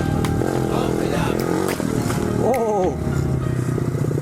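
A Honda CRF50 pit bike engine buzzes and revs while being ridden over a jump, a loud close whine that rises and falls, with a brief shout partway through.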